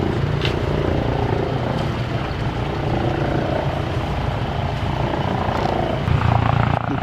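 A helicopter flies in toward a serious road accident near a swing bridge, its steady rotor thrum and engine drone loud and continuous throughout, swelling slightly closer near the end.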